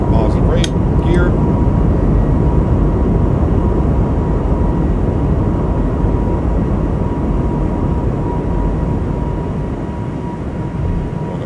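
An Airbus A220 jet roars through its takeoff roll and climb, heard as a loud, steady broadband rumble inside the cockpit, with brief pilot callouts over the engine noise.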